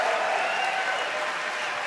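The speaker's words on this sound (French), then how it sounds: "vous venez d'applaudir à un rétroprojecteur" Audience in a comedy show applauding an old overhead projector, a steady, even wash of clapping filling the room for a couple of seconds, fairly loud and uninterrupted.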